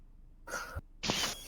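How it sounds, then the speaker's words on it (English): A single close sneeze in a quiet room: a short sharp inhale followed by a brief pause and then a forceful burst. "That was a sneeze."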